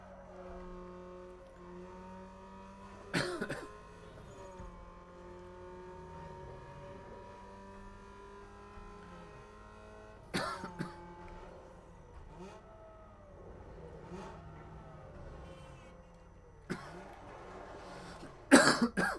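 A few sharp coughs break out at intervals over a steady engine drone, with a louder burst near the end.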